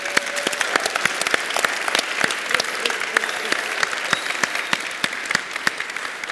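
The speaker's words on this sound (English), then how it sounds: "give a big cheer for yourself because you worked really well today" Workshop audience in a hall applauding at length, a sustained crowd of clapping hands with sharp individual claps standing out, fairly loud and steady throughout.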